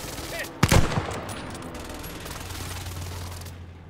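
A close air support strike in a battle royale shooter game lands as one sudden loud gunfire burst and crash, then fades into a low rumbling drone, with voice chatter throughout.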